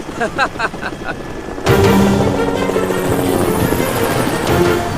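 A helicopter flies toward mountains along a valley lake system, with a steady, loud, close rotor thrum and engine whine that swells suddenly after a quieter opening.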